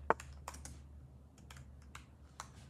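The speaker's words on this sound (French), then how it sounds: "Je vais lui écrire bonjour Pyrox." Keys clack sparsely on a computer keyboard while a short chat greeting is typed during an online chess game, a handful of quiet, separate taps over a low steady hum.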